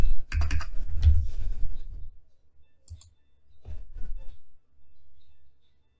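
Quick clicking keystrokes on a computer keyboard as a password is typed, a dense burst of taps followed by a few scattered presses, close and quiet with no talking.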